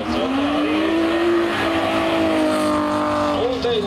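A rally car at the Talsi minirally 2024 drives past with its engine holding a loud, high revving drone. The pitch rises, then falls through a gear change near the end.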